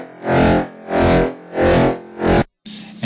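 Dubstep bass synth patch from a Reason combinator with filter automation, four loud wobbling pulses opening and closing in a steady rhythm, then a brief cut and a thinner buzzing tone.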